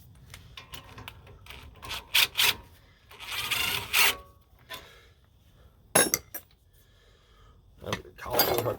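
An impact wrench spins out brake caliper bolts during a front brake job on a Toyota Tundra, in several short, loud bursts separated by metallic clinks and quiet gaps.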